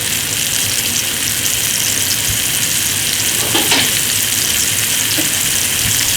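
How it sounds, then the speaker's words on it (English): Braised-style short ribs sear in hot oil in a pan with a loud, dense, continuous hiss and crackle heard up close, and a few small pops rise above it. "let them hit that pan, let them hit that oil and brown up a little bit"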